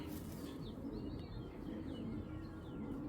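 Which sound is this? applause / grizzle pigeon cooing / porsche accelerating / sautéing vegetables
grizzle pigeon cooing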